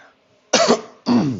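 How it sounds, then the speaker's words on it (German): Two harsh coughs, close and loud, separated by a short pause after a moment of near silence. "Tut mir leid für den Husten."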